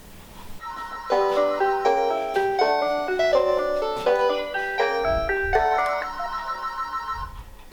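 An old telephone rings with a bright, melodic electronic ringtone, a rapid run of tonal notes repeating steadily for several seconds, close and clear with no voices.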